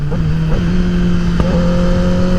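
Kawasaki ZX-10R Gen6 sport bike engine droning steadily at close range, with a brief interruption and a pitch shift around the one-and-a-half-second mark as the quick-shifter snaps it up into fourth gear, the tone then settling slightly higher.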